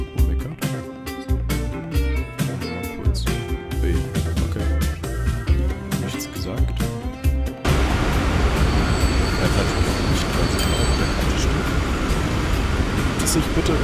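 Music and talk give way to a steady rolling rumble and clatter of a tram running in the Transport Fever simulation game, loud and continuous for several seconds.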